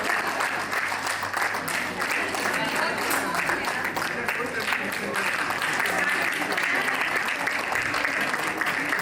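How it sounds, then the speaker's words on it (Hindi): A crowd at a class silver jubilee reunion applauds steadily to welcome a guest, sustained clapping that continues under occasional voices. "जोरदार तालियों के साथ उनका स्वागत करते हैं।"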